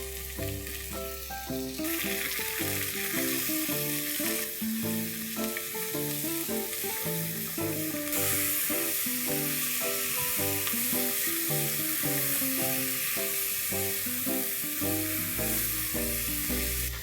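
Long-sliced onions frying with green cardamom and ginger-garlic paste in a pressure cooker for veg pulao, a dense, continuous close sizzle under steady background music.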